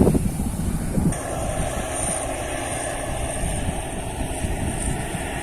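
A rice combine harvester's engine runs steadily out in a field during the harvest, a loud continuous drone with a roughened mechanical whine that holds with no talk.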